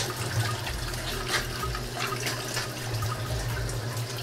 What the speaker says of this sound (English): you can just see with all the nice water movement going on here,